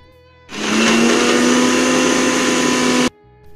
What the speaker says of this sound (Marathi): मिक्सरमध्ये टाकून वाटून घेते